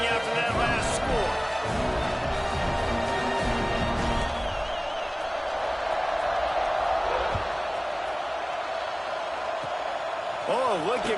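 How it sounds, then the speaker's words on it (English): A stadium crowd at an American football game buzzes steadily after a score, a broad, continuous roar with scattered shouts and whoops running under a commentator's voice. "this crowd is buzzing after that last score"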